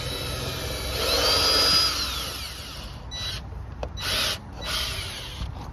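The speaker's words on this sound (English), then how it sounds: "I'm going to drill a little pilot hole on that top" A power drill whirs up close, rising in pitch as it bores a small pilot hole for a screw while mounting a sprinkler timer, then pulses in a few short bursts before stopping.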